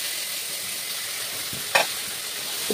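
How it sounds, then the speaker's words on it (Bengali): A ginger, cumin, onion and green chili paste sizzles in a pan for egg masala curry, a steady hiss with a scraping stir near the middle and a light knock near the end. "বাটাটা দিয়ে নাড়াচাড়া করলাম।"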